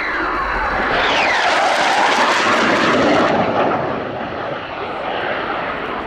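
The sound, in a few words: Saab 39 Gripen jet flying display, engine on reheat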